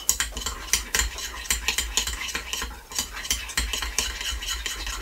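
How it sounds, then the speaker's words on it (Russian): Brisk, repeated scraping and clicking of a spoon working a thick garlic bread roll dough mixture in a bowl, steady and close. "И опять все замешиваем в однородную массу."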